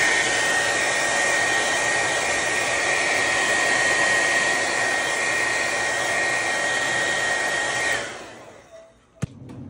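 Hair dryer blowing hot air over a painted underpainting for a cauldron painting, a loud steady whooshing whine that runs alone for about eight seconds, then cuts off with a short click.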